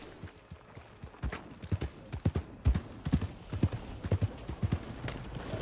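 Horse hooves clip-clop in a steady, uneven trot, fairly close and distinct against a quiet background hum.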